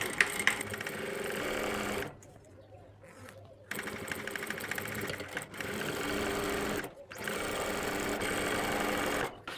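A sewing machine stitches an invisible zip onto a kurti, loud and close, running in bursts of rapid needle clatter separated by short pauses, with no talk over it.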